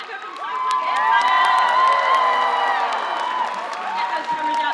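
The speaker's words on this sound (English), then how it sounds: "Keep cheering, guys. Keep cheering." Crowd cheering and whooping at a cosplay catwalk at PAX Aus, loud sustained shouts and squeals from many voices filling the hall, swelling and easing slightly over several seconds.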